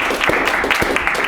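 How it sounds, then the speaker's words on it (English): Audience clapping for a musician at an unplugged session, a steady, fairly loud patter of hands with a few sharper claps standing out, continuous through the moment without voices. "You can clap again if you want."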